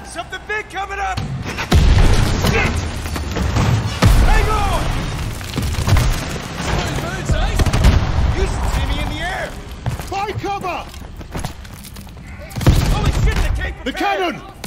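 Heavy booming cannon blasts roll out repeatedly amid a loud, chaotic battle in Call of Duty: Vanguard, set in tunnels in Berlin 1945, with voices shouting over the din.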